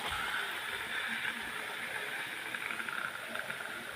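Chicken is poured into a hot pan of fried spice paste, giving a steady, moderately faint sizzle and hiss that continues throughout, with occasional soft bumps and no talking.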